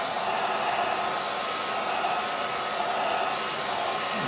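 A handheld hair dryer blows steadily to dry wet watercolour paint on paper, a constant close whooshing drone with no breaks and no talk.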